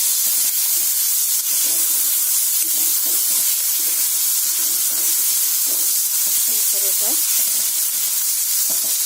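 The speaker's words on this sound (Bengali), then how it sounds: "এরপরে মশলাটা ফ্রাই হোক।" Spice paste with dried shrimp sizzling and frying in a pan, a steady close hiss with occasional soft stirring scrapes throughout, no voices.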